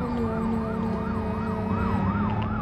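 A video game police siren in BeamNG wails in a steady, rapid up-and-down cycle, loud and close, over a constant engine drone, with no speech.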